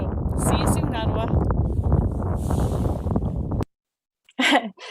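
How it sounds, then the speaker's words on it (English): Strong wind buffets the microphone beside Mistastin Lake, an impact crater in northern Labrador, a loud rough rumbling gust that overwhelms a speaking voice, cuts out abruptly, then returns in a brief burst. "You can tell how windy it was."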